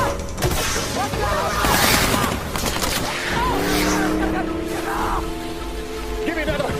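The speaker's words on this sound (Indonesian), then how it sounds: "Para perompak terus menembaki dan Kapten Phillips menyuruh semua awak kapalnya bersembunyi di ruang mesin" Somali pirates firing guns at a cargo ship, a dramatized sequence of rapid shots and bursts throughout, mixed with other loud effects and some voices.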